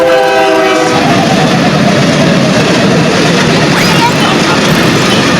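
A train races past right beside Olavakkode railway station in Palakkad, loud and close, with a brief horn tone at the start and then a continuous roar of wheels and carriages.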